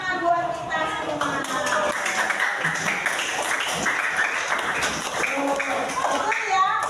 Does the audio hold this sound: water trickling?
no